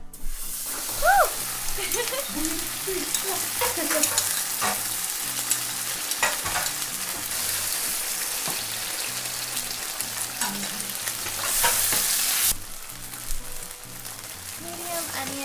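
A quarter cup of ketchup sizzles in about two teaspoons of hot oil while being stirred for stewed red beans, a steady crackling hiss with scraping stir strokes and a louder burst near the end.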